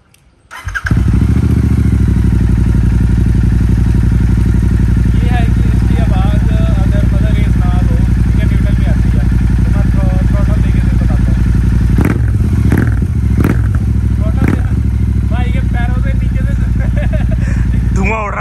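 A Royal Enfield Super Meteor 650 motorcycle engine starts and idles steadily, loud and close with a dense low rumble, clattering and a few sharp blips of revving toward the end, while people talk over it.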